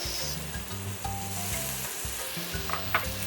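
Pumpkin and carrots fry in hot oil for Trini kitchri, a steady close sizzle with a few small clinks near the end, no voices.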